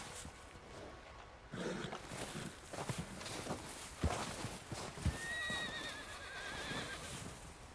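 White Arabian horse in the Red Dead Redemption 2 video game, hooves clip-clopping and thudding irregularly alongside snorting, with a short whinny partway through against an outdoor ambient background.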